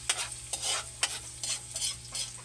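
Garlic frying in a pan crackles and sizzles close by while a utensil stirs, giving repeated scraping bursts at a quick, uneven rhythm, with no voices.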